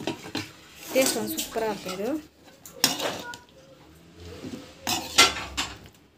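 A spoon stirs and scrapes through chutney in a dish, giving a few soft clinks and scraping strokes in short bursts, with a person talking between them.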